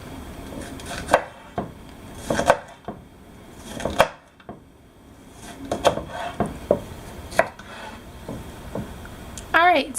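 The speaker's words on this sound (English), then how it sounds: "Now that we've got the seeds out of the peppers, we're just going to slice them into strips." A knife slices seeded bell peppers into strips on a cutting board, giving irregular close chopping and scraping knocks in short bursts with pauses between them, plus a brief clatter at the end.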